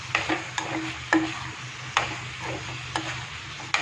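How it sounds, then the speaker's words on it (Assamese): Broiler chicken meat frying in a pan with a soft background sizzle. Sharp spatula scrapes and knocks come at irregular intervals, about seven in four seconds, close by and with no talking. "পানীখিনি ওলোৱালৈকে এইখিনি আমি ধুনীয়াকৈ ভাজি থাকিম"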